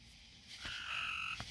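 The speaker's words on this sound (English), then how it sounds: "You can hear I've got a frog in here calling." A frog calls from inside a greenhouse, a single raspy croak building into a sustained trilling note, fairly close and alone against a quiet background.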